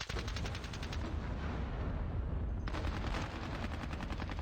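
Heavy explosive rounds from a tank fired at an enemy squad in the wargame Squad Battles: Advance of the Reich, heavy tanks at Rossienie, as a dense continuous barrage of rapid gunfire bursts with a brief lull before it surges again, loud throughout.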